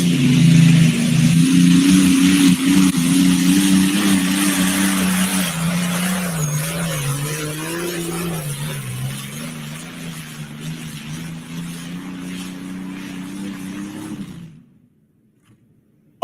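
A modified pulling tractor called Frequent Flyer roars loudly through a full pass at an outlaw truck and tractor pull, its engine pitch rising and wavering for about fourteen seconds before cutting off abruptly into silence.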